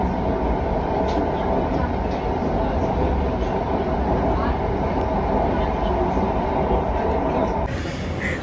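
Mumbai metro train running near Andheri West, a steady loud rumble of wheels and carriage noise throughout, with a brief shift in tone near the end.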